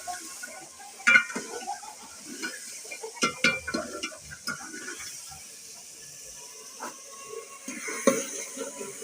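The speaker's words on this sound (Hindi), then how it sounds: "अच्छी तरह आलू को भी तड़का लग गया" Potatoes tossed into hot spiced oil for tadka in a village kitchen, a soft sizzle under scattered clinks and scrapes of a spoon against the pot, with several sharper stirring knocks near the start and end.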